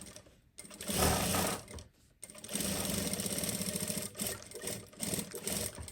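A sewing machine stitches a narrow topstitched seam on a handbag, running in loud rapid bursts broken by two short pauses, then a longer steady run that slows and restarts.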